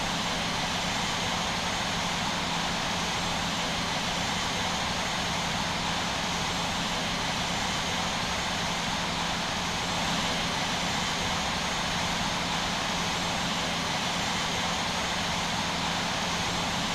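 Airliner engines idle steadily during pushback at Paris Charles de Gaulle in the Infinite Flight simulator, a constant broadband jet whine and hum with a low tonal drone, unchanging and moderately loud.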